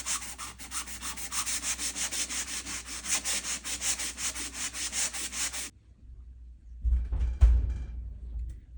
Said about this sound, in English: now I'm going to just sand them